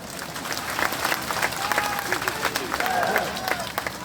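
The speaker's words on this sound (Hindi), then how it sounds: "तपस्वी महाराज जोरदार ताली" A crowd claps loudly for Tapasvi Maharaj at a religious gathering, a thick continuous wash of applause with some voices and faint tonal sounds beneath.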